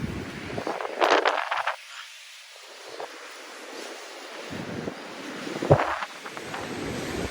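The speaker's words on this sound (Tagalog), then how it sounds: "Lakas ng hangin, oh. Tunog na lang niya." Strong typhoon wind buffets the microphone in gusts, rising and falling over roaring surf-like noise, with no talking.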